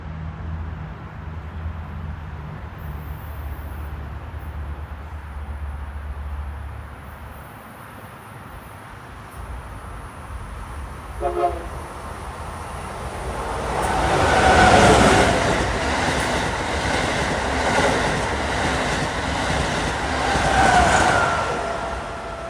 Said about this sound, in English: approaching westbound at 136 is a Acela 2253 en route from Boston to Washington